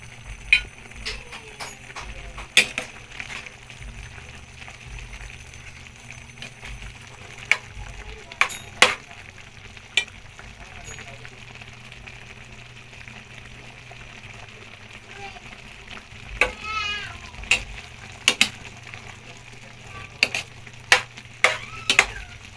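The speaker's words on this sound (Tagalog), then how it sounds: "Kumukulo na siya." A pot of coconut milk boils and simmers with a low steady hiss, punctuated by occasional sharp clinks and stirring sounds, with speech at times.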